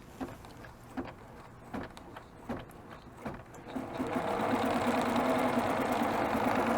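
A B990 sewing machine starts stitching an edge-to-edge quilting pass, beginning with a few spaced needle thumps and then settling into a steady, continuous whir that holds at an even, fairly loud level.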